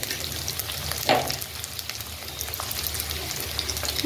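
Chopped tomato sautéing with ginger in a pan for crab curry gives a soft, steady sizzle, with a brief louder stir or clatter early on.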